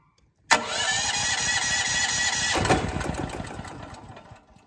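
A propane-fuelled engine with the choke set to start, fed liquid propane gas, catches abruptly and roars loudly and steadily for a few seconds, with a shift in tone partway through before settling and fading slightly.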